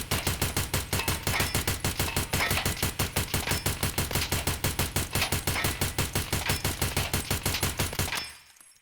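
Rifle shots in Escape from Tarkov fire as single taps in a fast, regular rhythm, each one a sharp crack with a short tail, steady and fairly loud until they stop abruptly.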